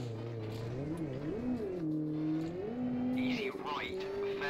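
A rally car's engine in the Richard Burns Rally video game revs up and down in rising and falling sweeps as the wheels spin without gaining grip, loud and continuous.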